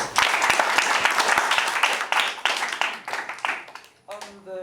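Students at a school debate clap for a speaker, a brisk burst of clapping that tapers off before a voice speaks at the end.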